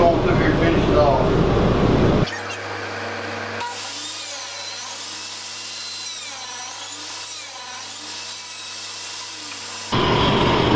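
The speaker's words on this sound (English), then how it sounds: "I'm going to cut a 1/2 inch first to kind of get my blade depth correct" A power saw blade whines steadily through a board, cutting a half-inch-deep groove with a sustained high-pitched buzz, close and loud, before dropping off at the end, with a voice heard around the cut.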